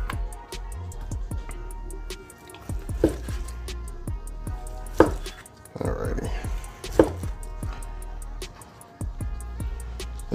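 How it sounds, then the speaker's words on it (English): Knife slicing through cooked teriyaki pork tenderloin from a cook-in-bag package, with a few soft cuts and taps on a board spaced through quiet pauses, close and faint, with someone talking over it. "I'm gonna cut off a couple slices"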